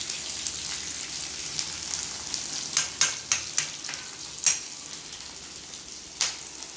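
Chopped onions and other ingredients for Maggi noodles sizzle steadily in a pan, a continuous bright frying hiss broken by several sharp clicks and scrapes of stirring.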